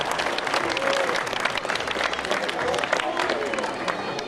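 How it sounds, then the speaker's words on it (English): An audience at a tiger show claps in a lively, dense round of applause, with crowd chatter and voices mixed in throughout. "Let's give them a big round of applause."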